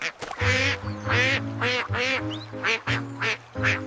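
A singing voice imitates a duck with a run of rhythmic "quack" calls over a steady musical backing, close and fairly loud.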